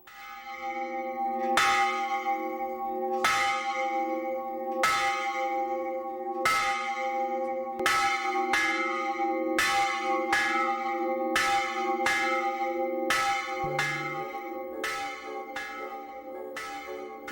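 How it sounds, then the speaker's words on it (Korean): An old church bell rings from a weathered bell tower at a rural church in Gimje, South Korea, a dozen or so clear resonant strikes at an even pace, each tone ringing on and overlapping the next. "낡고 오래된 종탑에서 울리는 종소리가 시인과 목사를 반긴다"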